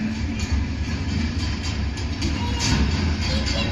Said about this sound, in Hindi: तो ये थी बिजली के सहायता से चलने वाली रेलगाड़ी।